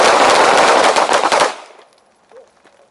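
A rapid string of loud, close pistol shots, about six, fired from a red-dot-equipped handgun on a training range, crack in quick succession and then cut off, leaving a brief fading echo.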